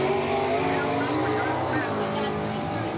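Drag racing cars roar at Englishtown, New Jersey during a Super Stock Nationals event, a dense, steady engine drone filling the whole stretch, with speech likely underneath.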